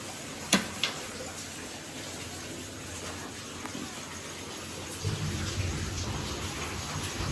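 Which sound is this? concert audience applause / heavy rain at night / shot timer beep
heavy rain at night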